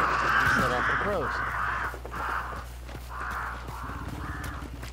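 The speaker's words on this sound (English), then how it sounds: "Set off the crows." Crows caw repeatedly in Hunt: Showdown, a series of harsh, evenly spaced calls from a startled flock, fairly close, over a steady low hum and faint background speech.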